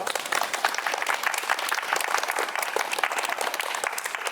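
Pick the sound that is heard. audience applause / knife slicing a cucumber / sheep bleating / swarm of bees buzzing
audience applause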